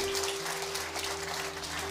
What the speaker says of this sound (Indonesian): Mari kita beri tepuk tangan untuk Tuhan.